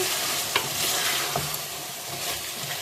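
Chicken qurma being stirred in a pan, a close scraping and sizzling texture with a few distinct spoon strokes against the pan over a continuous fry hiss, no talking.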